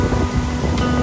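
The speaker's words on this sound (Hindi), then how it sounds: "बहुत ही हवा चल रही है" Strong wind gusting on a rainy waterfall hiking trail at Tiffany Falls in Hamilton, a steady broadband roar that stays loud and close for the whole second with no talking.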